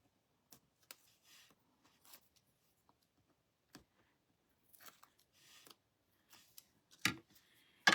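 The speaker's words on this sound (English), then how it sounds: "I'm using my Take Your Pick tool, and I'm going to peel the backings off of this." Scattered soft scratching, clicks and small crinkles as backing paper is peeled off a Post-It Note holder with a pick tool, quiet and close, with a couple of louder crackles near the end.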